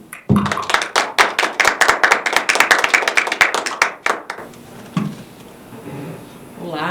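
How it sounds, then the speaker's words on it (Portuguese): A small group claps hands together in a quick, fairly loud, rhythmic burst lasting about four seconds, then stops, leaving a few faint voices and room noise. "Vamos bater palmas?"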